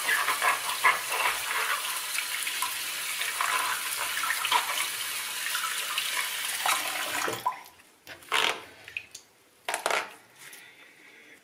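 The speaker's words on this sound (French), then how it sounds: "Et là, on vient la rincer vraiment." Running tap water rinsing an object in a sink, a steady hissing splash close by that breaks into uneven splashes and dribbles as the item is moved under the stream.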